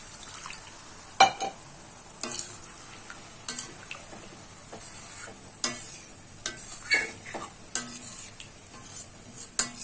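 Masala gravy for shahi paneer sizzles in a pan as a glass of water goes in and a spoon stirs it, with soft scraping and bubbling broken by sharp clinks of the utensil against the pot.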